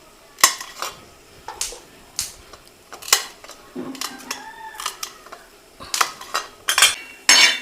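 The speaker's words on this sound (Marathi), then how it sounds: "हिरवी मिरची कापून घेऊया." Green chillies are cut on a plate, with sharp clinks and knife taps against the dish in irregular bursts, separated by quiet gaps, close up and crisp.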